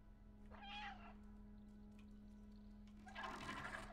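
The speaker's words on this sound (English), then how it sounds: "Oh yeah, forget I can meow." A cat character meows twice in the video game Stray, two short, clear calls a few seconds apart over a low, steady hum.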